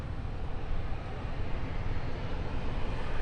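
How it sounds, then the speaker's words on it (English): A steady, broad roar of a distant airplane taking off from an airport in Curaçao, rumbling continuously, low and constant throughout with no talking. "There's an airplane taking off right now."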